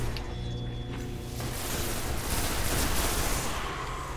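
Rapid automatic gunfire in the Destiny video game, a dense, loud, continuous barrage of shots over a mechanical hum, with no talking.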